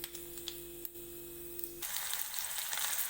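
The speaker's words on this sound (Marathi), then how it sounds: "आता जिरं टाकून घेते जिरं आणि मोहरी थोडीशी टाकून घेते" Cumin and mustard seeds hit hot oil and burst into a sudden loud, crackling sizzle after a quiet humming start, the close frying hiss then holding steady to the end.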